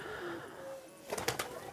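A black-skinned Kaliyara pigeon, a Qasid breed, gives soft low coos, followed by a brief burst of sharp fluttering clicks near the end.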